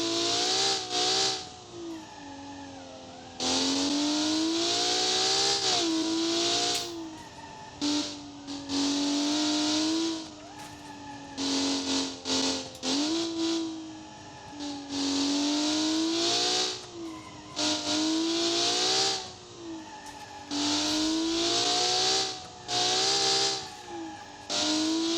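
The Crown Model 8 car in the BeamNG video game on the Italy map, its engine revving hard and climbing through gears in repeated pulls, with lifts between them and a steady whining drone throughout.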